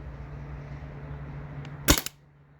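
A single sharp burst from a Byrna TCR launcher running on HPA (high-pressure air), with a brief air hiss around it, standing out above steady low background hum and fading quickly.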